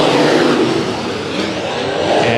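IMCA modified race cars roar off together at the green flag at Bakersfield Speedway, a loud dense engine drone with overlapping revving, close and continuous throughout, no audible voices.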